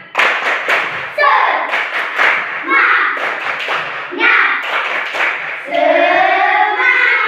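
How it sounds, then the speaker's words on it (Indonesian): Rhythmic classroom spirit clapping (tepuk semangat) during a maths lesson, several sharp patterned claps and thumps in quick bursts, mixed with children chanting along in a loud, close group. "Kita mulai ya, tepuk semangat."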